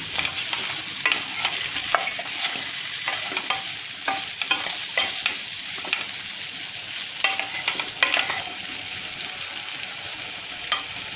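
Potatoes seasoned with salt and turmeric sizzle steadily in a hot pan for a South Indian spicy potato roast, with repeated scraping stirs of a spoon through the frying pieces, close and fairly loud, no voices.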